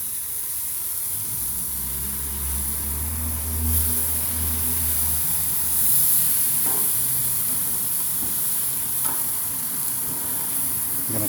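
Ribs sizzle on a hot grill with the lid open, a loud steady hiss and crackle that stays close and constant, with no one speaking.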